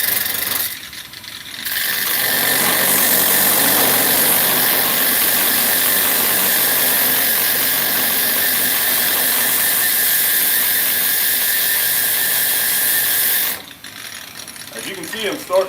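Power sander fitted with an 80 grit disc grinding hard white oak, a loud continuous high whirring and rasping that runs steadily for about twelve seconds before stopping, with brief talk at the start and end.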